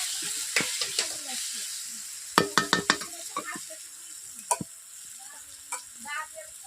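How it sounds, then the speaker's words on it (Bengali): Garlic paste frying with browned onion in a pan, a steady close sizzle broken by a quick run of sharp scraping stir strokes and a few later scrapes; no talk. "রসুনটা ভাজা হয়ে গেছে"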